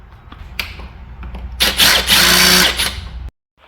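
A power drill drives a screw into the side panel of a 3-in-1 multi game table, a short whir followed by a loud sustained high buzzing burst that cuts off abruptly.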